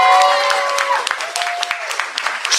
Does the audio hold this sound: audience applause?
yes